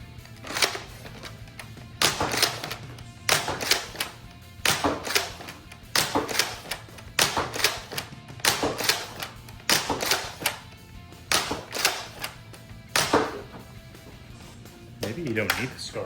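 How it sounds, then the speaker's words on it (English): Dart Zone Pro Mk 4 foam blaster firing Worker Gen 3 Halfling darts from a Talon 18-round magazine, fitted with a long barrel extension: a steady series of about a dozen sharp, loud shots at roughly one-second intervals over a low background hum. "Now shooting some Worker Gen 3 Halfling darts out of a Talon 18-round mag"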